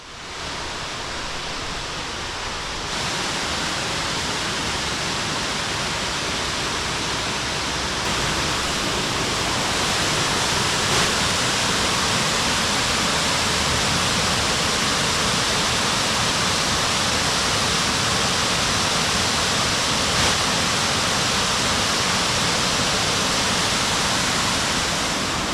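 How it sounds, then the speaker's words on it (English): Roughlee Waterfall roars steadily beside a road, a dense continuous rush of falling water that stays loud and close throughout with no voices. "You'll probably hear it before you see it, but on the left hand side of the road is Roughlee Waterfall"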